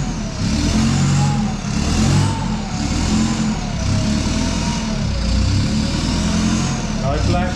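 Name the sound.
Nissan Patrol engine revving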